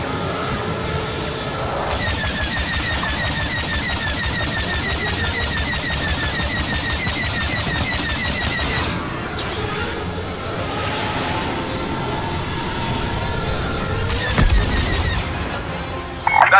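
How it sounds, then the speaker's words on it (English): Bombers make an attack run in a Star Wars Battlefront II space battle, with dense continuous blaster fire, booming impacts and explosions that keep pounding throughout and build to sharper blasts near the end. "Bombers are making their attack run now."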